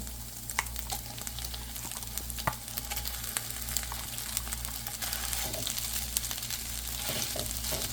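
Grated boiled potato frying in a pan, a dense, continuous sizzle close up with occasional small taps and crackles, steady in loudness and without speech.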